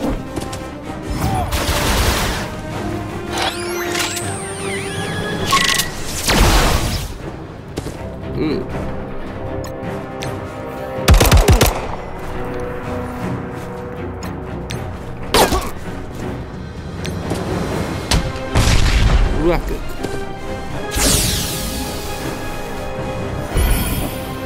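Rapid bursts of gunfire and heavy impacts from the mobile game Marvel Strike Force, repeated volleys and thuds scattered through a busy mix of game effects and music.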